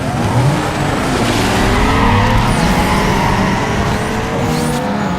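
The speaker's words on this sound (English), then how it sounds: "We did a burnout actually." Tires screech and squeal through a car burnout in Need For Speed Underground 2, with a loud continuous engine roar, alone and sustained, as rival cars including an Audi TT, Ford Mustang, Peugeot and Supra wait at the race start.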